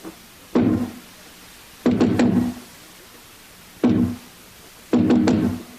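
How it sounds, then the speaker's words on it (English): Knocking on a solid door: four distinct groups of hard, heavy knocks, first a single knock, then a quick cluster, then another single and another cluster, loud and close with no talking. "Who knocks?"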